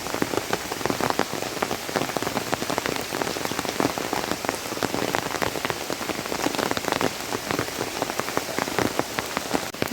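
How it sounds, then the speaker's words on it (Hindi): Heavy monsoon downpour in Haridwar, a dense, steady roar of rain hammering surfaces with countless close drops, loud and unbroken throughout with no voices. "फिर उसके बाद कल रात से वही मूसलाधार बारिश अभी भी लगी हुई है"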